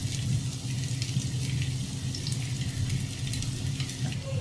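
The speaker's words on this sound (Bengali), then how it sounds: "তেলটা একটু গরম হয়ে আসলে এর মধ্যে পেঁয়াজ কুচিগুলো ছেড়ে দিতে হবে" Chopped onions fried in two tablespoons of hot oil in a pan for chicken buns, a continuous close sizzle with faint stirring, no talking.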